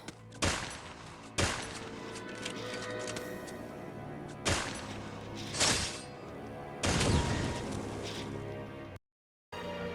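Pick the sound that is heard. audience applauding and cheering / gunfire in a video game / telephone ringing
gunfire in a video game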